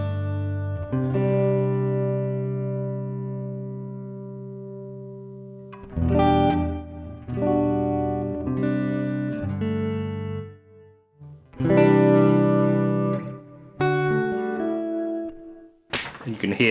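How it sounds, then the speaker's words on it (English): Guitar chords played through a reverb with tremolo, each strum ringing out in long washy tails that pulse and swell, loud and close with short gaps between phrases. "this one has tremolo as well, so tremolo reverb."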